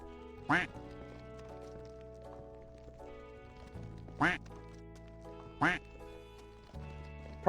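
A duck-quacking song plays in the Rimworld video game: three sharp, isolated quacks, spaced several seconds apart, sound over a quiet sustained musical tone.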